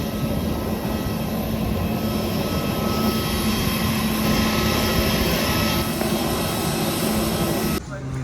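Steady, loud cabin drone of an airplane in flight on a roughly two-and-a-half-hour trip to Kolkata, a continuous broadband roar that holds without pause and shifts slightly near the end.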